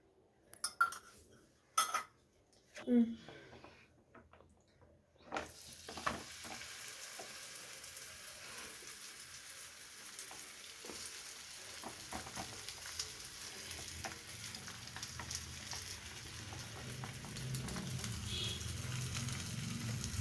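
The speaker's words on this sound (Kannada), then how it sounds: "ಇವಾಗ ನಾನು ಪಾನು ಬಿಸಿಗಿಟ್ಟಿದ್ದೀನಿ ಎರಡು ಸ್ಪೂನು ಎಣ್ಣೆ ಹಾಕ್ತಾಯಿದ್ದೀನಿ" Two spoons of oil heating in a pan for akki roti: a few clinks and knocks of utensils first, then a continuous soft sizzle that slowly grows louder, close and without talk.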